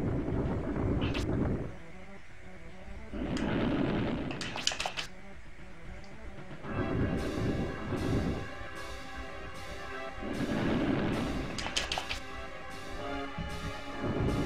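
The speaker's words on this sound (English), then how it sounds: "I can drop rocks on him. My rocks are hitting him." Heavy rocks from a spell crash down onto the enemy Fargo in the Nintendo 64 game Quest 64, landing in repeated rumbling impact bursts with quieter gaps between volleys, loud and close.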